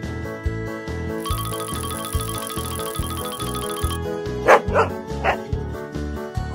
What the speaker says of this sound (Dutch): Hond.